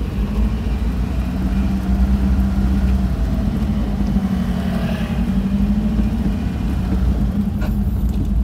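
A manual car creeps along in first gear with a steady low engine rumble and road noise, close and continuous, with no one speaking.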